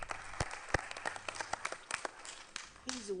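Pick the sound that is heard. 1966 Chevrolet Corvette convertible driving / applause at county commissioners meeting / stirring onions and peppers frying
applause at county commissioners meeting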